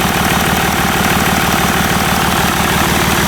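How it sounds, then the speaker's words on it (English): A rebuilt Range Rover 3.0 TDV6 diesel engine idles steadily, its exhaust giving a loud, continuous low rumble with an even, close-up pulsing and no voices over it. "What you're hearing in the moment from there is exhaust."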